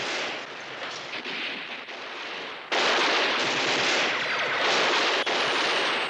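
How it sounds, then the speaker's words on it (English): Mortar and gunfire barrage in a war drama battle scene, a dense roaring wash of blasts and shots that swells louder midway and continues without talk. "Blow those mortars apart, Tanner."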